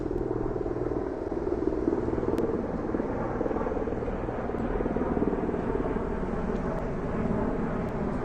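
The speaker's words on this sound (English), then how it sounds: "Vice President's helicopter is coming over these trees." A Marine military helicopter carrying the Vice President thumps steadily overhead above trees, its rotor chop and engine drone filling the air at moderate distance, fairly constant throughout.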